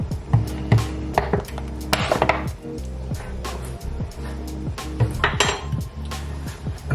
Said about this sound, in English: now we're simply just going to grab the cabbage and add it in there. I'm now going to give that a good mix.